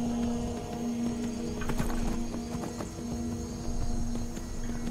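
Hooves of a horse in the video game Skyrim clip-clop in a steady walking rhythm, close and moderately loud, over a quiet humming game ambience with no talk.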